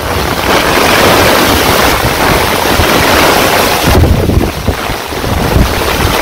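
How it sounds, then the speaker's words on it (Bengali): Strong storm wind gusts across a village during heavy rain, a loud, steady, roaring rush that stays close and unbroken throughout, with no talking. "প্রচুর বাতাস ছুটছে"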